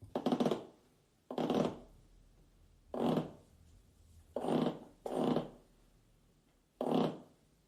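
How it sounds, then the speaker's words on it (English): Six harsh, rasping magpie rattle calls in an uneven rhythm, each about half a second long, close and fairly loud with quiet gaps between. "The football rattle of the magpie."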